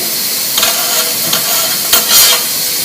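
Sliced zucchini sizzles steadily in a hot pan, with a few brief scraping clatters as tongs stir and turn the pieces, up close and without talk.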